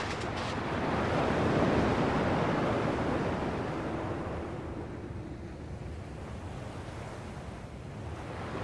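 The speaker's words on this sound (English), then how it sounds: "At least the waves sound the same" Ocean waves wash onto a shore in Kingdom Hearts, a broad rushing surge that swells and then eases into a softer, steady wash with wind-like hiss and no talk.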